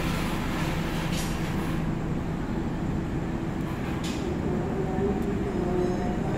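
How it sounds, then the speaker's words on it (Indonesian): Majapahit economy-class train arriving at Kediri station, heard from on board as a steady, close rumble of wheels and carriage noise, with faint squeal-like streaks, and no talk. "perjalanan kereta api Majapahit sudah tiba di stasiun Kediri tepat waktu, berhenti kurang lebih 4 menit"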